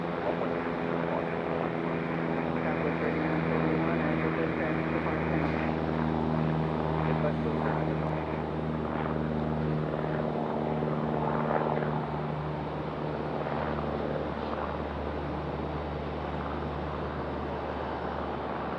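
A plane doing a touch-and-go at Raleigh-Durham International Airport, a steady loud engine drone with strong tonal hum holding throughout, easing slightly in the final seconds.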